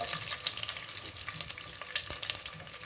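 Curry leaves fry in hot oil for upma, giving a close, steady crackling sizzle with scattered sharp pops and stirring scrapes, no voices present.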